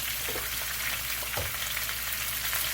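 Sliced big portobello mushrooms fry in a pan with a loud, steady sizzle and crackle, broken once by a brief knock, no voices.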